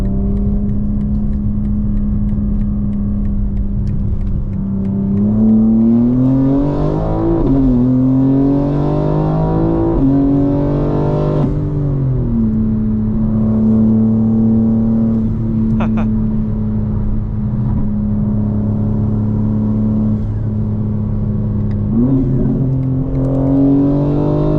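A 2025 BMW M4 Competition xDrive engine on a night drive drones loud and steady from inside the car, rising in a few rev surges and gear shifts before settling into a constant cruising hum.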